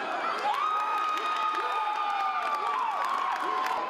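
A large crowd cheers and whoops at a soldiers' fight tournament, a continuous dense roar of voices with rising shouts scattered throughout, heard from within the arena.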